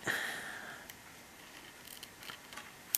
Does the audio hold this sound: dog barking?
no